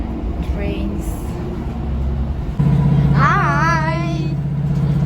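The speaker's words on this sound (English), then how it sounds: "We are in the old Northern Line, and it's going towards Manchester Oxford Street." An old Northern passenger train running between Liverpool and Manchester rumbles steadily from inside the carriage, its drone growing louder partway through while people talk over it.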